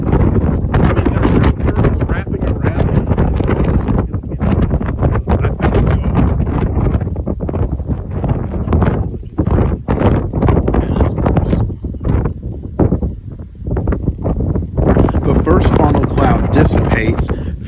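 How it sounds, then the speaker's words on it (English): Powerful rear flank downdraft gusts from a severe storm roar loudly and continuously against the microphone, buffeting and rumbling throughout with brief dips in intensity. "a massive gust of rear flank downdraft winds that push out of the backside of the storm"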